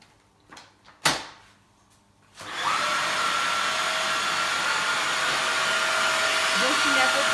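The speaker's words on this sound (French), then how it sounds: "au niveau du bruit, c'est pas très fort en fait, finalement par rapport à certains aspirateurs" Wet-dry vacuum cleaner sucking up spilled tea: a few clicks and thumps as it is handled and switched on, then a steady, moderately loud whooshing suction hum that holds to the end.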